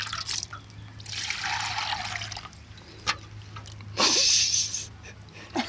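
Cold water is poured over a person's head in bursts, splashing and trickling close by in two main pours separated by short drips and a brief quieter gap.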